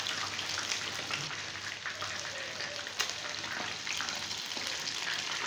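Coated chicken pieces deep fry in hot oil with a constant, soft bubbling sizzle and scattered tiny pops, steady and fairly quiet throughout.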